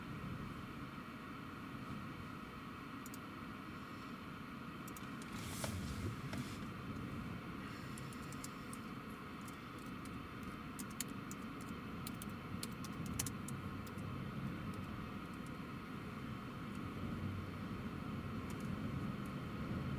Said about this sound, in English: And the Jet 2 is taxiing.